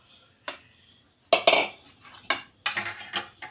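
Pots, dishes and metal utensils handled in a home kitchen, with sharp clinks and clatters in bursts of knocks, a few separate hits followed by a busier run of rattling, close and fairly loud with no talk.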